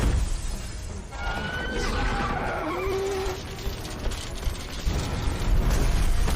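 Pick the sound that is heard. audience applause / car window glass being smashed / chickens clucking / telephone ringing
car window glass being smashed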